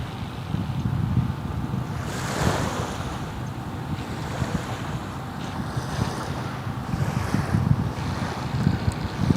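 Ocean waves wash steadily on a bay-side shore at Anna Maria Island, Florida, a continuous soft surf hiss with gentle swells and some wind buffeting, no speech.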